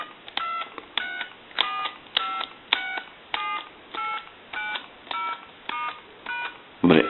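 An Ericofon reproduction telephone in brushed stainless steel being dialed during repair, a steady series of about ten tone-dial beeps at even intervals, loud and close, ending in a brief clunk.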